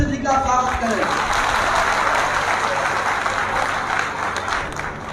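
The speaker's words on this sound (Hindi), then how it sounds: "मैं आप सबसे निवेदन करता हूं कि जोरदार तालियों से पंडित सतीश चंद्र मिश्र जी का स्वागत करें।" Loud, sustained applause from a rally crowd at a BSP Brahmin conference in Deoria, welcoming a speaker; dense clapping fills the whole stretch, with a voice briefly over it at the start.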